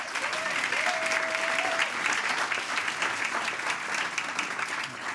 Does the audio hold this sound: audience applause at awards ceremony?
yes